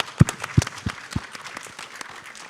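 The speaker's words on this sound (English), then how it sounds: "please give a round of applause for the organizers because they actually" A handful of scattered claps from a panel audience at a conference event, a few distinct sharp hits at first, then fading into lighter, sparse clapping.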